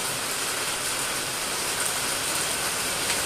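Heavy rain pours down steadily, a dense, even hiss with no breaks or talk throughout.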